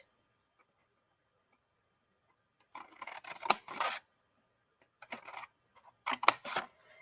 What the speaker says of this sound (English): I'm going to cut up the flaps just like that